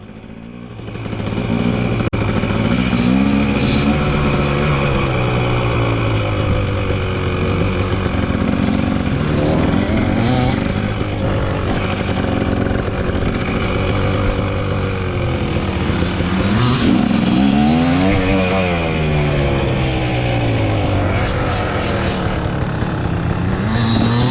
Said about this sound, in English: I'm going to ride both Corey and Gene's bikes.